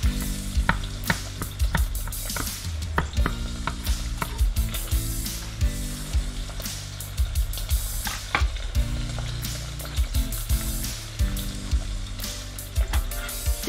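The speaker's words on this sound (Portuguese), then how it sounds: "E colocamos para refogar junto com as linguiças." Chopped vegetables sautéing with sausages in a pot for minestrone, a steady close sizzle broken by scraping and clattering stirs throughout, with no talking.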